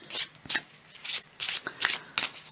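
Oracle cards are shuffled by hand for a card reading, making a series of quick riffling bursts in uneven rhythm, close and clear with short pauses between them.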